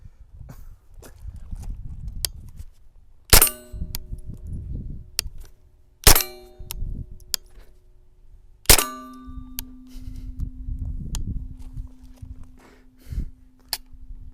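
Three sharp cracks from a Derya Arms TM22 .22lr rifle each strike a metal target that rings with a sustained clang, separated by rustling and shuffling between shots outdoors.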